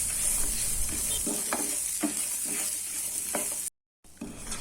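Small shallots, garlic and curry leaves fry over a medium flame, a continuous soft sizzle broken by several distinct stirring scrapes, with a brief dropout near the end.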